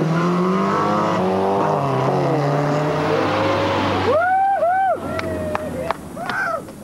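A tuned street racing car with a lowered chassis, souped-up engine and bored-out exhaust revs hard, rising and falling through gears, then snarls with sharp throttle blips and pops at the end.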